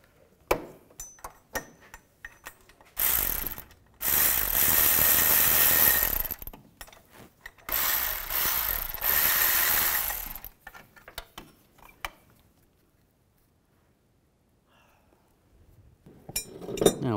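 A ratchet wrench loosens bolts on a Volkswagen Beetle engine, with two long bursts of rapid metallic clicking separated by short pauses, close up, then quiet apart from faint taps and clinks.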